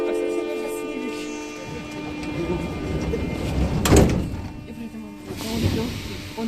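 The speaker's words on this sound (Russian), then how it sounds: "Осторожно, двери зачиняются." 81-717 metro car doors closing at a Minsk station, with rumbling train and platform noise and a sharp clunk of the doors shutting, followed by a second softer thud; voices nearby.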